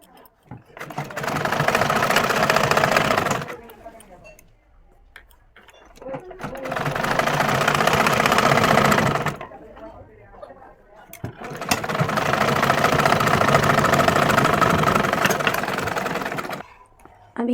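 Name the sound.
sewing machine stitching a sleeve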